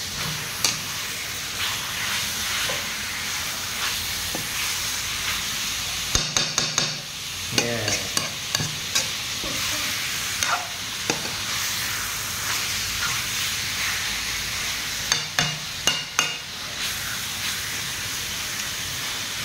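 Quail pieces stir-fry in a pan with curry paste, a constant hiss of sizzling overlaid by repeated sharp clacks and scrapes of a utensil against the pan.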